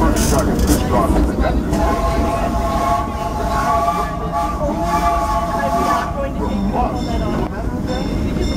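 The Disneyland Railroad train rolls along its tracks in a steady, loud rumble with rhythmic wheel clatter and a sustained tonal squeal, while people talk over the ride.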